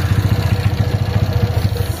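A Mix 212cc motorcycle engine runs steadily up close, a loud, even low chug pulsing rhythmically like a small single-cylinder idling, with no voices over it.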